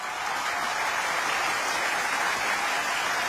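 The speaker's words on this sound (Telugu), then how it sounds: "కొంచెం క్లాప్ కొట్టండి." Steady, dense applause from an awards-show audience, continuous and fairly loud throughout with no pauses or voices standing out.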